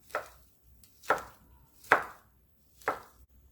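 Four sharp knife chops through Korean fish cake on a cutting board for a broth soup, spaced at a steady pace with quiet gaps between, close and clear with no talking.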